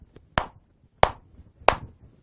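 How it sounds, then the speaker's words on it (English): Classroom of students giving three sharp, evenly spaced unison claps for a classmate, each crisp and close with a short decay and quiet between. "Can we clap 3 for Asma"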